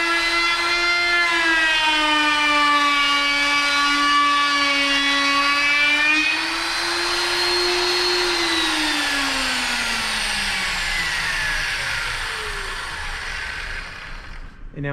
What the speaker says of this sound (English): I turn it on, wait for the full RPM, then I go ahead and start my routering operation.